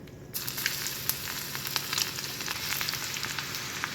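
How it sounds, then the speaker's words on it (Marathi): Mustard seeds and garlic sizzle in hot oil in a kadhai, a dense close crackle that begins abruptly and continues steadily with scattered sharp pops, and no voices. "कढईमध्ये तेल तापत ठेवलेलं आहे आणि छान तापलेलं आहे आता तर मोहरी घालते आणि त्या त्याच्यानंतर लगेचच लसूण घालते"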